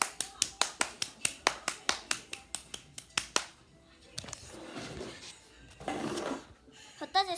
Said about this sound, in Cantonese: 我哋俾啲掌聲收心同學先啦